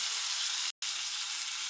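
Tomatoes sautéing in a pan give a steady, close frying sizzle with constant hiss that cuts out for a split second midway, then resumes at the same level.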